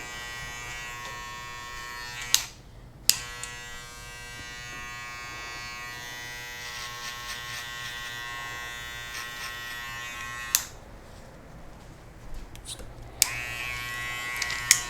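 Electric hair clipper buzzing steadily while cutting a flattop baseline, a continuous close-up hum with a few brief pauses and clicks as the clipper is lifted and repositioned.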